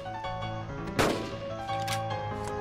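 Gunfire in the video game Carnivores Dinosaur Hunt while hunting a T. rex, with a sharp loud shot near the middle and a fainter one later over a steady game backdrop hum.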